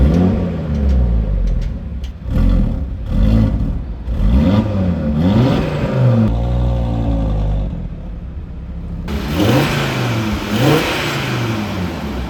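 Audi RS3 8P engine and exhaust revving close up, repeated throttle blips rising and falling in pitch with a deep, slightly muffled five-cylinder burble between them, no talk.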